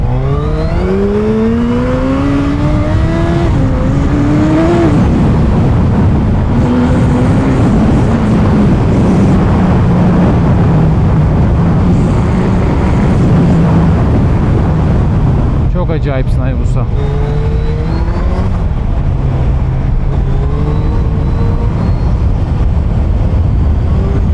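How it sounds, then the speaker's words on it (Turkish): A Suzuki Hayabusa 25th Anniversary motorcycle with a 1340cc, 187-horsepower engine is ridden hard. The loud engine note climbs and drops through gear changes over steady wind roar, while a rider talks over it throughout. "1340 cc 187 beygiri bir makine."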